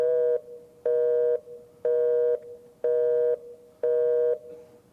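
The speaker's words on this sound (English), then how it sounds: "It's the busy signal." Telephone busy signal: five evenly spaced tone bursts, each about half a second long with equal gaps, loud and clean, with nothing else heard.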